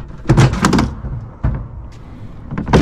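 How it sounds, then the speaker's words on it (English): A sliding drawer on an overland rig's deck drawer system with smooth locking latches rolls and thuds shut, with a few close, loud knocks and a latch click near the end, no talk. "Both sliding drawers have these dividers here"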